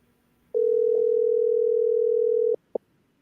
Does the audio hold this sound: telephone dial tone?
yes